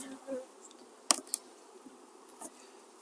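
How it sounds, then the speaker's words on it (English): Honey bees buzz softly around an eight-frame hive while a nuc is installed, a faint low hum broken by a few sharp knocks of frames and hive parts. "These pronucs, you got to be careful because when you pull them up, you could roll bees"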